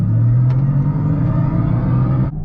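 A Mercedes-AMG EQS53 electric car accelerates hard on the autobahn, heard from inside as a loud, steady low rumble with a synthetic drive hum that cuts off abruptly near the end.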